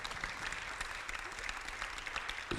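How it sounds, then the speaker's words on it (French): Audience applause at a seminar round-table on railway stations, steady dense clapping from a crowd filling the whole stretch at moderate level. "Monsieur Martin Vanier, applaudissements"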